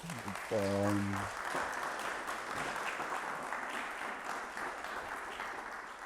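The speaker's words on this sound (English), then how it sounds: "Please, let's give him a round of applause." Applause from a crowd, steady clapping that fills the room and continues throughout after a brief voice at the start.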